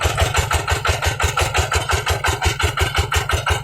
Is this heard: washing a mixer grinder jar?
no